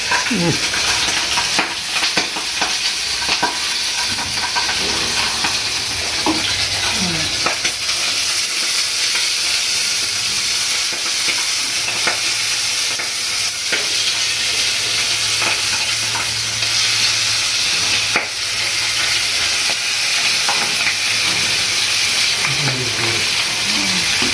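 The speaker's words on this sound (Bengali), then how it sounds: "মাছটা ভাজা হচ্ছে, একটু আঁচটা বাড়িয়ে দিচ্ছি।" Steady, loud sizzling of pabda fish, coated in flour and oil, frying in hot oil over a raised flame, a continuous crackling hiss with occasional soft pops, running throughout.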